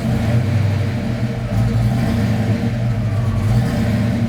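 A Ford Foxbody Mustang with a GT40 engine and B cam idling close by, a loud, steady, lumpy rumble with a slight wavering as the idle settles.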